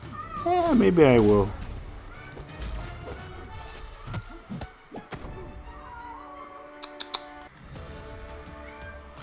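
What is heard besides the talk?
half Maine Coon cat meowing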